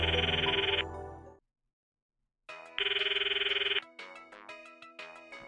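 A cell phone ringtone plays a bright electronic melody, cuts off into silence, then rings again with repeated chiming tones, heard clearly with no voices, in a Steins;Gate visual novel scene.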